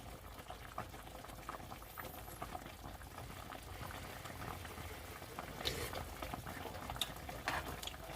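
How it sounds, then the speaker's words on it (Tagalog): Pork steak (bistek) simmering in a pot gives a soft, steady bubbling with small pops and crackles, faint and close, continuing without pause. "And again, let it simmer for several minutes ulit"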